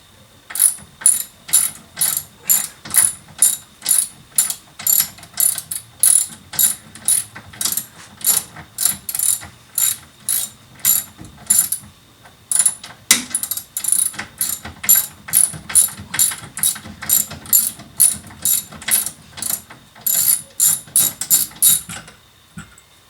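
A ratchet wrench works a rear suspension bolt loose on an E30 drift build, giving steady close clicking strokes in rhythmic bursts, with a short pause midway before the ratcheting resumes.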